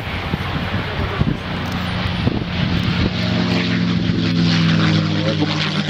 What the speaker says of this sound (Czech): Je to legendární Mustang P51.